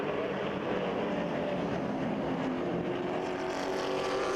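Late model race cars at Kil Kare thunder past the start-finish line, a loud continuous engine roar from several cars blending together close by.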